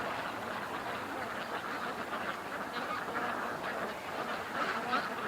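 Ducks on open water on a windy day, a continuous chorus of quacking and honking calls heard over a steady wash of wind noise, moderately loud and somewhat distant.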